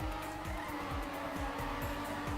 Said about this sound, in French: Je vais freiner là par exemple.